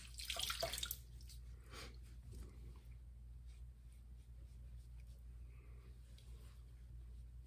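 Water from a tap runs briefly while someone rinses off after a shave, a short splashy burst at the start followed by faint trickling and drips.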